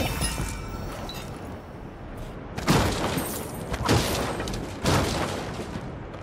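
Several booming explosion bursts from Wolcen: Lords of Mayhem during a boss fight, three strong blasts landing about a second apart over a steady noisy background.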